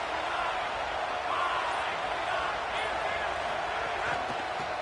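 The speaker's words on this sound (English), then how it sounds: "The roar of the crowd trying to fuel this defense to keep them pinned in their own end." A stadium crowd roars steadily through a football game between LSU and Florida, a dense, far-off wash of cheering that never lets up, while a commentator talks over it.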